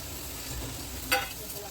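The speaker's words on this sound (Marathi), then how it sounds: "आता मी सुकं खोबरं भाजून घेते." Dried coconut dry-roasting in a pan: a soft, steady sizzle and stirring hiss close by, with one brief louder scrape partway through.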